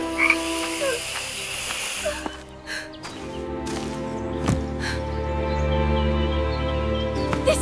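Many frogs croak together in a dense, steady chorus that fills the room, loud and close throughout, with a few sharper clicks and thumps scattered among the calls and no talking.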